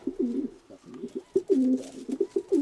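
Pigeons coo inside a pigeon loft, a close run of repeated rolling coos in quick succession with short gaps between calls.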